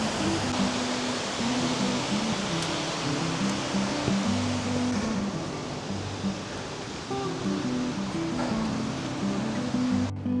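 Large Alpine waterfall, the Cascade du Pi, swollen after heavy rain, roars as a constant dense rush of water heard from close by, with faint music-like tones layered underneath and no talking.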